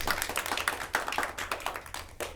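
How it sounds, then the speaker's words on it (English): An audience claps during a staged reading, with a short burst of distinct, fairly quiet handclaps close together over about two seconds. "Applause."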